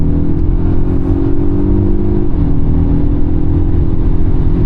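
A Polestar 1 accelerates at wide-open throttle on a race track with a loud, close, steady engine drone and one brief pitch drop midway, like a gear change.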